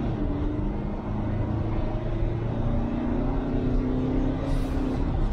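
Car accelerating hard under full throttle, a steady loud engine drone with rising tones and road roar, heard from inside the cabin without pause.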